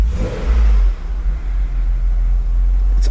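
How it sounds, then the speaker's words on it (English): An old Nissan Z car engine that has just come back to life, revving loudly at first and then dropping to a deep, steady, slightly uneven idle rumble. "It's idling."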